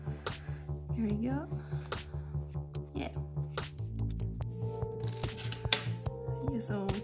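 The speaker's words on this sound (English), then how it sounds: "I use always these scissors because I love them." Scissors snip through a woven tapestry in a steady series of short crisp cuts, quiet and close, with faint rustling and a soft voice now and then.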